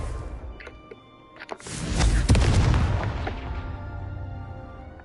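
A Confringo blasting spell goes off in a Harry Potter video game: a sudden loud, close blast rises out of near-quiet and trails into a long, rumbling roar that slowly fades.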